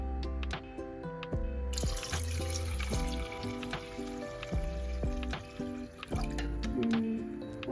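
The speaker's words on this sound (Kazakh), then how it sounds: "Енді осыған суымызды құйып," Water poured from a vessel into a pot of cherries for a compote, with steady running and dripping splashes and scattered clinks throughout, fairly close and continuous.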